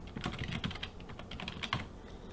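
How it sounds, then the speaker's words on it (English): Someone types on a computer keyboard, a quick run of close, crisp key clicks in an irregular rhythm with brief pauses, with no talking. "if I type in this Tech Bites title, Tech Bites description."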